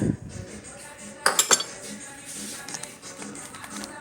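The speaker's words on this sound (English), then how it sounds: "So I was gonna get another little bowl" A small bowl is pulled from a stack of kitchen dishes, making a quick run of bright ceramic and metal clinks close by, with softer knocks and rattles before and after.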